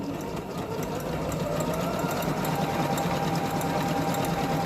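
A Singer Minx 2660 sewing machine runs steadily at close range, a continuous even whirring hum with no break and no talk over it.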